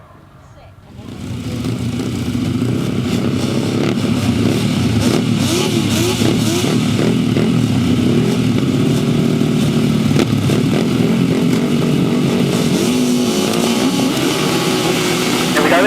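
Grasstrack sidecar motorcycles race at Torry Hill in 2006, their engines rising from quiet into a loud, sustained, revving roar that carries on steadily throughout, with a commentator's voice faintly mixed in.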